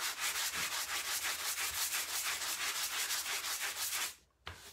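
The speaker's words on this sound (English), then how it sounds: "sandpaper, and just lightly sand it" Wooden furniture is lightly hand-sanded with 400 grit sandpaper, a close, steady run of quick back-and-forth rasping strokes that stops abruptly near the end, followed by a single short scrape.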